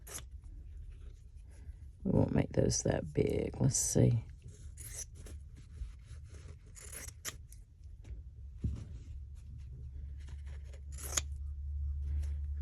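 Scissors snip through vintage fabric in a quick cluster of close cuts, followed by softer handling noises, with a person talking over parts of it.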